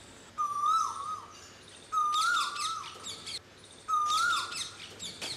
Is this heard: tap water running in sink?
no